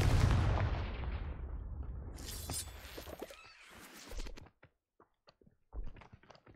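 Confringo fire spell blasting in Hogwarts Legacy, a loud booming explosion at the start that rumbles and crackles as it fades, followed by quieter scattered clicks and a short thud near the end.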